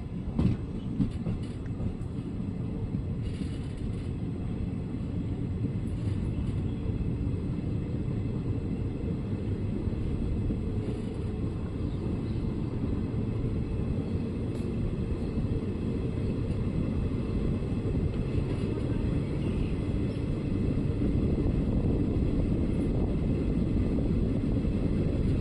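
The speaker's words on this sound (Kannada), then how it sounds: "ಸುಮಾರು 5 ನಿಮಿಷ ಹಾಲ್ಟ್ ನಂತರ ನಮ್ಮ ಟ್ರೈನ್ ಮದ್ದೂರಿಂದ ಹೊರಟಿದೆ" Chamundi Express train running between Maddur and Channapatna, heard from inside the carriage as a steady loud rumble with continuous wheel clatter throughout, no talk.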